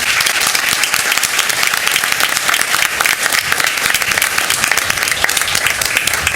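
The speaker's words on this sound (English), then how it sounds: "So let's give them all one last round of applause" Sustained, dense applause from an audience at a school board meeting fills the room, a steady wash of many hands clapping at once with no voices standing out.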